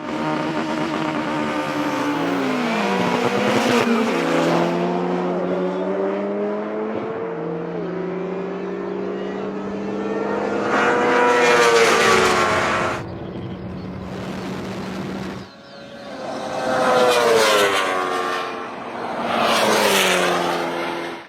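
A BMW S1000RR motorcycle, McLaren 720S and Ariel Atom 4 in a drag race, loud engines roaring and climbing through repeated gear changes, rising whines broken by shift dips, then a second burst of hard acceleration passing close.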